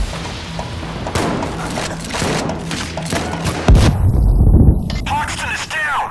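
Gunfire and explosions in the video game Payday 2, dense shots and booms layered under game sounds, with a heavy thud and a ringing muffled stretch near the end as a player talks.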